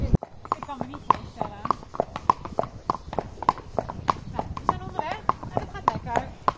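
A ridden horse's hooves clip-clop in a quick, steady rhythm on the ground in the Kootwijk area, close and distinct, with people talking over the hoofbeats.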